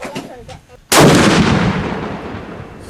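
A single shot from a Vulcan 20 mm rifle: a sudden, very loud blast after a brief quiet stretch, followed by a long, rumbling echo that slowly fades.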